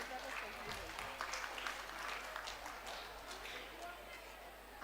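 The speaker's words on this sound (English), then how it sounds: "Can we have a louder applause," An audience at a Model UN closing ceremony claps, a soft, scattered patter of applause rising and falling throughout, somewhat distant, with a voice faintly beneath.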